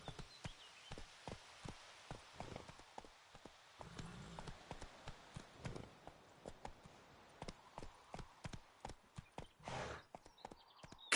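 Geralt's horse Roach trotting in The Witcher 3, a brisk run of hoof clip-clops on firm ground with an even rhythm, close and clear, with a few soft snorts between strides.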